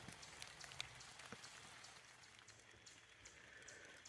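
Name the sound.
rain falling in a cemetery on a mountain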